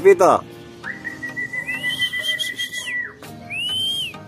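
A sharp whistle blast is followed by a long sustained whistle tone that rises and glides, then a second shorter rising whistle, heard up close during a training session in Lucban, Quezon, with low background noise.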